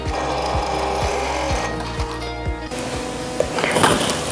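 Sewing machine stitching a folded round collar of stretchy t-shirt fabric, a steady mechanical run with regular rhythmic needle thumps, close and alone, easing off near the end.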